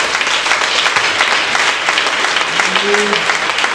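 Church congregation applauding loudly and steadily throughout a worship service, dense continuous clapping with a voice calling out over it.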